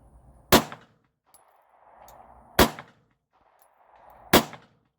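Three sharp pistol shots ring out at steel targets during a shooting drill, evenly spaced about two seconds apart. Each crack is loud and close, with quieter background noise between shots.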